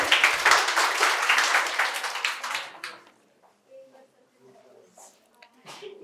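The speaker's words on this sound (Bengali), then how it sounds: "জোরে হাততালি হয়ে যাক" An audience at a quiz prize-giving in Santiniketan Medical College and Hospital breaks into brisk, loud clapping that fades after about three seconds, leaving a quiet hall with a few faint sounds.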